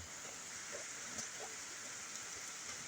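Heavy rain pours in a constant broadband hiss, dense and even throughout, with faint scattered drips and splashes underneath.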